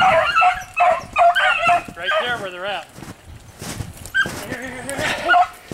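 Hunting dogs yipping, whining and barking excitedly while chasing a hare in the north woods, high eager cries mixed with someone talking nearby.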